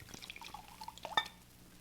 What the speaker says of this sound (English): Here, let me pour you both some wine.